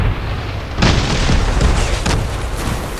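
Heavy cannon fire booms loudly in the vehicle combat game Crossout. A deep blast hits at the start and more rumbling shots follow in an overlapping, chaotic battle din.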